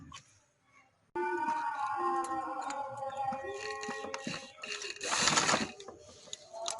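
Sewing machine stitching a ban-style neck design with loop and pearls, starting abruptly after a quiet moment and running steadily with a whirring motor and rapid needle rhythm, briefly louder toward the end.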